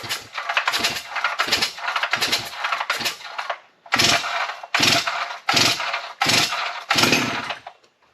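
A Holzfforma G366 chainsaw, a Stihl MS361 clone race-saw build, is pulled over repeatedly with choke and decompression valve set, making about ten rhythmic rasping recoil-starter pulls in quick succession with a short pause midway.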